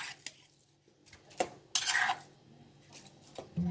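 A pounded Thai mixture for a rambutan-stuffed clear soup is scooped into a metal basin, giving a few soft scraping, clinking touches of a utensil against metal with short pauses between them and no talk.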